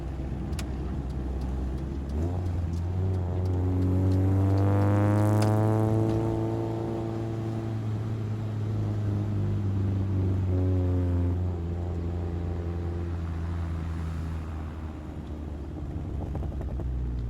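A Chevrolet car's exhaust burbling and popping as the throttle is released, with the engine note rising and falling through gear changes, close and loud, no voices.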